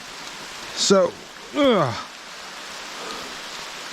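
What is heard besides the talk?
light rain falling on a forest hike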